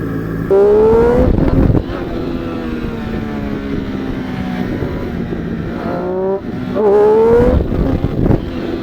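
A Triumph Street Triple RS motorcycle revs loud and close on a road, its engine note rising and falling, with sharp exhaust pops breaking in between the throttle blips.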